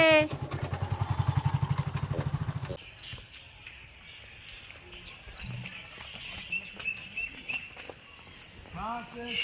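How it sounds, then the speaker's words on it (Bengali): A motorcycle passing close on a road, its pulsing engine loud for a few seconds before cutting away, followed by quieter outdoor ambience with chirping birds and occasional voices. "বাইক আসছে দেখে।"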